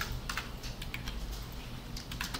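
Keys clatter steadily on a computer keyboard during a React coding lesson, a run of quick close clicks with a few sharper strokes like Enter presses, with no talking.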